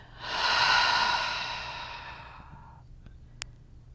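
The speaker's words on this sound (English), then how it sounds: "take a big breath in and out." One slow, deep breath drawn in and let out during a guided creativity meditation, a long airy rush that swells then fades, close and unaccompanied, followed by a small click.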